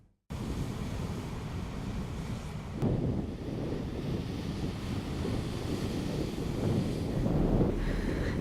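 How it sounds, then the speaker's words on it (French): Heavy surf from a rough sea, with waves around three to four metres, pounds the rocky coast of Guadeloupe at Pointe des Châteaux. It makes a continuous, loud broadband roar with gusty wind buffeting the microphone and no voices. "Des fortes vagues ont notamment déferlé aujourd'hui à Déé."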